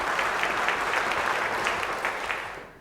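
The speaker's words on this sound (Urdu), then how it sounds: "تالیاں ہونی چاہیے پارٹیسپینٹ سی کے لیے" Steady applause from a studio audience for a contestant at a Ramadan quiz competition grand finale, a dense continuous clapping that holds loud and then fades toward the end.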